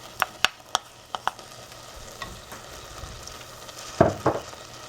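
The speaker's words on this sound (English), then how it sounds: "Next up, I'll put in the chopped onion." Chopped onion tumbles into a pan of wheat berries simmered with tomato, setting off a soft sizzle after a run of sharp utensil taps and scrapes, with a louder burst of frying near the end.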